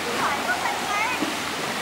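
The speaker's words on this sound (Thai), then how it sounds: "คลื่นยังซัดแรงมากเลยครับ" Waves thrown up by a passing Chao Phraya express boat slosh hard against the riverside wall at the flooded Tha Khiao Khai Ka pier, a steady, close rush of splashing water with no pause.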